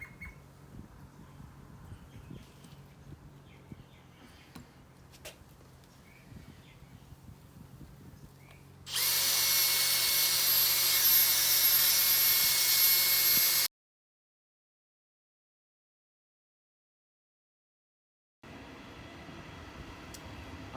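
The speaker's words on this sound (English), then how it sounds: "So I'm just sanding it back to get all that crap out" A drill fitted with a sanding pad grinds at the headlight lens of a 2003 Subaru WRX during a Mothers NuLens restoration, a loud, steady, harsh whir lasting about four seconds after a quiet stretch, then cutting off abruptly.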